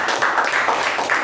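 An audience at a Toastmasters meeting gives a round of applause: a dense, steady patter of many hands clapping at once, fairly loud and close, with no break in the sound.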